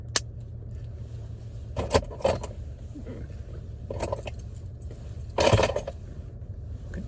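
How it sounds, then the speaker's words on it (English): Plastic car key fob casing pressed shut after a battery change, a few small clicks and plastic snaps close by over quiet room noise, with light handling rustle. "until you get the click sound on both sides."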